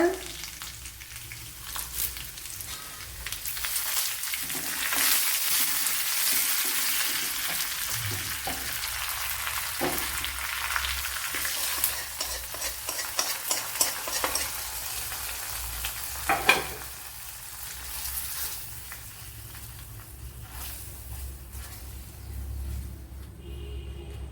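Prawn curry sizzling and frying with chillies in a pan, a steady crackling hiss with occasional stirring clinks and scrapes, close and moderately loud, no talking.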